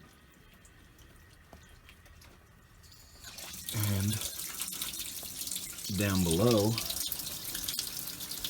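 Engine cooling water pours and gushes steadily as it drains out of a Sea Ray boat during winterizing, a broad splashing hiss that grows louder partway through, with someone talking briefly over it.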